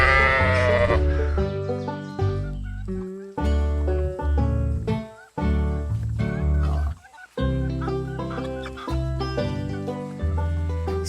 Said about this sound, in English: What does the sheep say?